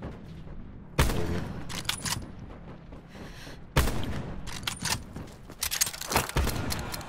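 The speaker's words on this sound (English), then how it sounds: "And they're shooting from our left too." Gunfire in the video game Blackout, sharp bursts of shots cracking out in clusters, two loud blasts standing out, with rapid volleys following in quick succession over a quiet background.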